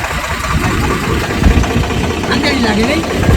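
A tractor engine runs close by with a steady, rattling chug while people talk over it.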